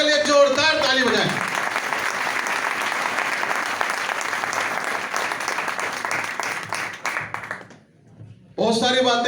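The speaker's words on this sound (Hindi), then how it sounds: "मैं चाहूंगा गुरुजी अनुज सर के लिए जोरदार ताली बजाएं" Loud crowd applause with dense clapping rises after a speaker's voice, holds steadily for several seconds at a seminar honoring a teacher, fades out, and speech resumes at the end.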